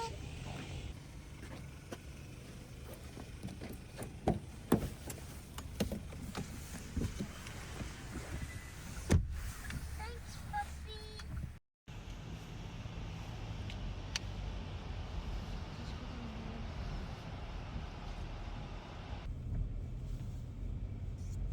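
A car idles and rumbles on a city street at night near the Capitol in Washington, DC, giving a continuous low engine and traffic drone with scattered clicks and a brief dropout midway.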